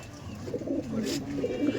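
Giribaj pigeons, an old-line breed, coo in a short low murmur nearby, soft and continuous, with a faint rustle in the middle.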